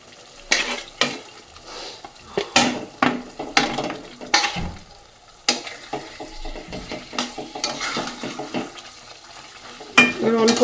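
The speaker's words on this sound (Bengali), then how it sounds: "এবার মাছগুলো চিতল মাছগুলো এক এক করে দিয়ে দেবো" Chitol fish pieces go one by one into hot oil fried with spices and a little chili powder, giving bursts of sizzling and frying mixed with stirring and clinks of utensils against the pan, close and fairly loud throughout.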